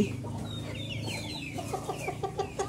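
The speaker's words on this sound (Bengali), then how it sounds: "দেখেন কত মুরগি জায়গা, সব ধরনের মুরগি রয়েছে, হাঁস রয়েছে" Fayoumi and Tiger chickens clucking nearby on a poultry farm, a run of short repeated clucks growing busier toward the end over a low background murmur.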